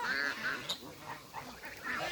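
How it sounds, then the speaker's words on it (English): Ducks and ducklings quack and honk at feeding time on a cold, rainy day, a steady chorus of overlapping calls close by with short bursts rising and falling, no talking. "These are the snowblower ducklings."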